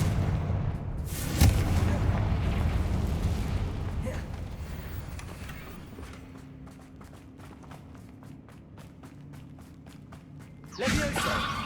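In Hogwarts Legacy on PS5, a Confringo fire-blasting spell goes off with a sharp, loud burst early on. Rumbling game ambience and rapid clicking steps follow, and a second heavy burst hits near the end.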